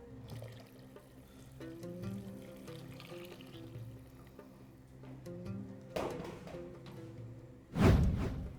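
Water runs and splashes into a pot for vegetarian Moroccan harira soup in a quiet kitchen, ending with a louder burst of pouring near the close.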